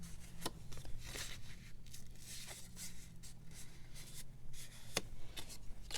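Scored paper for a mini lapbook insert being folded and creased by hand, heard as soft rustling with several sharp crisp snaps, close and quiet, with no talking.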